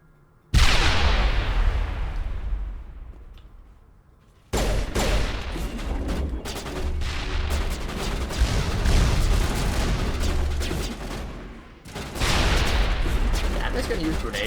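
Heavy barrage of rockets and explosions in Mass Effect combat on a moon, a sudden loud burst followed by sustained rapid blasts and booms, dropping briefly before erupting again.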